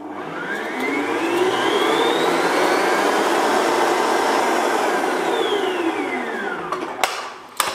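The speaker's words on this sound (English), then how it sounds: "Just pop the ice and sugar in there, that bowl is covered in Baileys. And then just whisk that up again." An electric mixer whisks cream cheese with icing sugar and Baileys for an Irish cream cheesecake, a loud steady whir rising and then sliding back down in pitch over several seconds, with a few clatters at the end.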